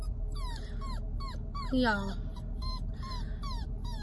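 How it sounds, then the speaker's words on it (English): Toy poodle puppy whimpering and whining in a moving car, high wavering cries repeating throughout with one louder moan midway, under steady road rumble while someone talks. "this puppy has anxiety when it comes to riding in the car, and she's done this since I got her"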